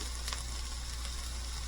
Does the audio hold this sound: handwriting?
no